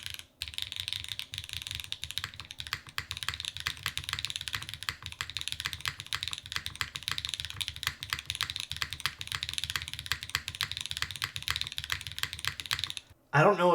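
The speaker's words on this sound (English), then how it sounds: "Shall we give this a little typing test here?" Steady, fast typing on a 60% mechanical keyboard with an aluminum plate, Obscura switches and gasket mounting, close up, with a continuous patter of soft clacky keystrokes and a brief pause near the start.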